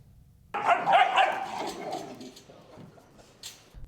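A service dog gives a close, fairly loud bark or a short burst of barking, then the sound trails off into quieter room noise.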